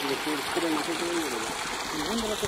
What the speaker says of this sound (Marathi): कैसे जा रहा है बिल में पाणी